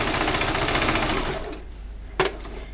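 A sewing machine stitching a red fabric applique for a cosplay piece runs at a fast, steady mechanical buzz, then stops and leaves a single short clunk near the end.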